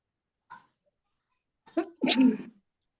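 A single sharp sneeze, preceded by a short sharp intake and a faint vocal sound, fairly close and otherwise quiet.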